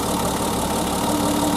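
A 1988 BMW E30 engine idles close by, giving a steady, loud, even hum with no changes in pitch and no talking over it.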